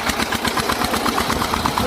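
A VST Shakti 130 DI 13 HP mini tractor diesel engine chugs close by, a fast even knocking thump repeating steadily and loudly throughout.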